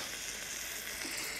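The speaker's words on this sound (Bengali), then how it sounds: "এই যে বাসমতি রাইস দিয়ে হালকা করে রাইসটাকে ভেজে নেব" Basmati rice fries with green chilies in a pan for biryani, giving a steady, close, soft sizzle with no talking.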